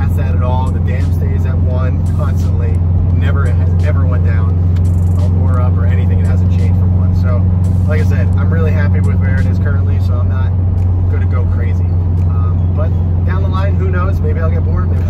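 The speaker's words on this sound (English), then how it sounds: "You hear plenty of turbo noises." A Subaru STI turbo engine with Stage 1+ mods runs steadily with a deep, continuous droning hum, while someone talks over it throughout.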